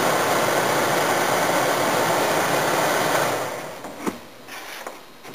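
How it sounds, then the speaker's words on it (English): Air conditioning system from a JDM model, fitted into a US-market Toyota Yaris, running with a steady broadband blower whoosh that drops in level partway through, followed by a few faint clicks. "so that's the JDM AC system working in a US Yaris"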